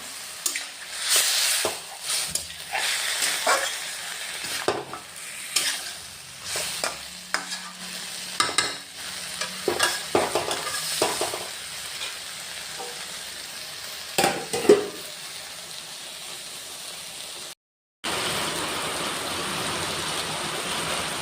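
Chicken stir-fried with tomato paste in a pan, repeated scraping and stirring strokes over a steady sizzle, close up, followed by a brief gap and then a flatter continuous hiss near the end.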